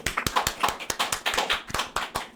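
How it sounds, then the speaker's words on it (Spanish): A small, sparse round of applause opens an evening program: a handful of distinct, irregular hand claps close to the microphone, each sharp and separate, with no talk over them. "Un aplauso"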